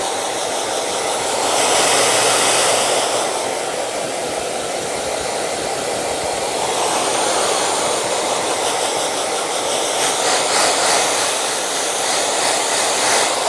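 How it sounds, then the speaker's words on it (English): A blow dryer runs continuously during a kids' haircut, a loud, steady broadband whoosh with slight shifts in airflow, no talking over it. "So now I'm going to do some detail work with my blow dryer on"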